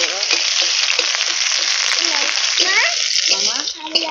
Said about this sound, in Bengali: এবার পেঁয়াজটা ভেজে নেবো তেলে